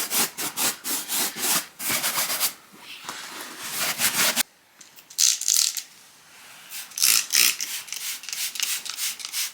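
Repeated brushing strokes across cloth fabric on a Toyota Celica ZZT231 car seat, a quick scratchy rhythm of close, fairly loud sweeps with a short pause midway.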